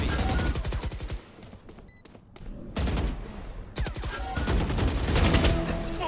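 Rapid bursts of gunfire ring out in a Valorant match on the Sunset map, loud, close rattling volleys separated by brief lulls with lighter scattered shots.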